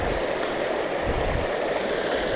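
A river on a calm outdoor day flows with a constant, even rush of water, close and steady throughout, with no talk.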